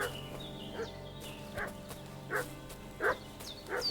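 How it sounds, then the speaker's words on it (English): A dog in the video game Kingdom Come Deliverance II barks repeatedly at a distance, about five evenly spaced faint barks over quiet game ambience. "Is the dog barking? What's that dog making such a fuss about?"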